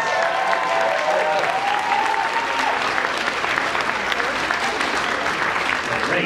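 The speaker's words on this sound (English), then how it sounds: "let's give a round of applause" A large audience at a live show claps loudly and steadily for several seconds, a dense, even wash of applause with a few voices calling out within it.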